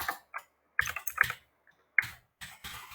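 Close clicking keystrokes on a computer keyboard while code is typed, arriving in short irregular bursts separated by brief pauses, with no talking.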